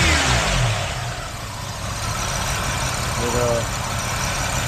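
A 1986 Buick Century Grand Sport engine runs steadily near at hand after a fuel filter replacement, with a brief rise in revs and a voice speaking over the idle.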